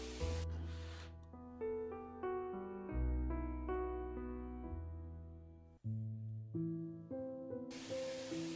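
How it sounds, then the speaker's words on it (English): A steam iron hisses onto folded-over 1860s corset fabric in two short bursts, one at the start and one at the end, with steady melodic music playing throughout. "I folded it over as per instructions and steamed it down"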